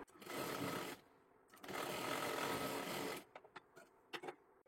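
Sewing machine stitching a girl's one-piece dress runs in two sustained bursts of steady whirring motor noise, then stops, followed by a few short clicks and quick jabs of stitching.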